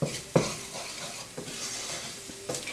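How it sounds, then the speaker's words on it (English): Seasonings stirred and cooking in a pan for chicken enchiladas, with a soft sizzle under a few sharp utensil clinks against the pan, heard close and without talk. "Give that a good mix. Get those seasonings cooking and bringing out the flavor."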